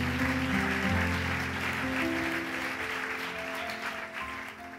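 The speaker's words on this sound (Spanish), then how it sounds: "Démosle un aplauso fuerte al Señor Jesús por su palabra." Church congregation applauding at a sermon on the miracles of Jesus, a broad steady wash of clapping over sustained organ or keyboard tones, moderately loud and gradually easing.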